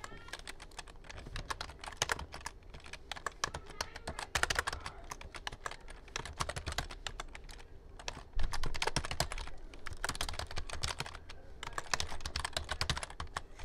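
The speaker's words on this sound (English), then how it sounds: "you're going to want to type this stuff in as I'm doing right now" Rapid typing on a computer keyboard, close and clear, with bursts of keystrokes broken by brief pauses and a heavier flurry partway through.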